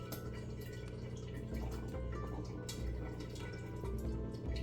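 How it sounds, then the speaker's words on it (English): Blueberry mead liquid drains through a screen filter, with quiet, steady trickling and scattered drips close by and no voices over it. "And I want all of this to drain out of this."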